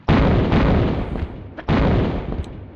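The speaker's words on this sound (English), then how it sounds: "He broke away, and he's going to start firing at me" Heavy gunfire from an Atlantean enemy in the video game Tomb Raider, two loud sustained bursts of booming shots separated by a brief break, close and dominant with no talk.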